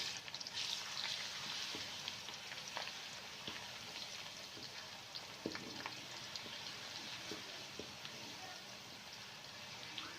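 Garlic ginger paste frying with browned onions in hot ghee, a steady soft sizzle with scattered small pops and crackles, close and continuous throughout.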